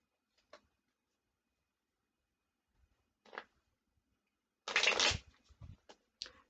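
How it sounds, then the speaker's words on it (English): Cards from a deck are shuffled and drawn close by in a quiet room: a few soft flicks, then a brief riffling burst and light slides as cards come off. "I'll get some cards from this deck."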